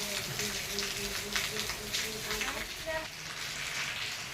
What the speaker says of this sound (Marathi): खूप जोराचा पाऊस आला बघा